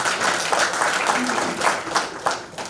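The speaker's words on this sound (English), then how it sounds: "Can we give him a round of applause?" An audience welcomes Peter Obi with applause at his birthday gathering, a dense wash of clapping from many people, steady and close throughout.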